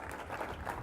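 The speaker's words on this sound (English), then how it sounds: "Let's give a round of applause for Carlos." An audience claps for a host committee chair at a College Football Playoff press event, a short burst of soft, distant applause.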